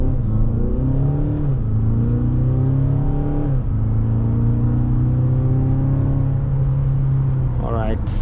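A car accelerates hard in sport mode, its engine rising in pitch and dropping sharply at each quick gear change over a steady close cabin drone. A voice talks throughout.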